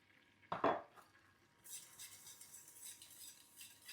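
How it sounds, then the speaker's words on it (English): A whisk works flour into melted butter in a pan for béchamel sauce. One sharp metallic clank is followed by quiet, ongoing scraping and stirring strokes, faint and without talk. "now we're going to add on our flour and then we're going to work really, really fast and we're going to mix it together"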